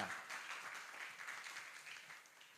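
A brief burst of applause, many hands clapping together at moderate volume, fading slightly toward the end.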